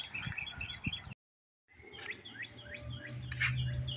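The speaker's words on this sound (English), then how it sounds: "you can hear the wind blowing, and you can hear the birds" Birds chirp outdoors in spring with bright, repeated short calls, nearby and fairly soft, with a brief gap of silence and light wind.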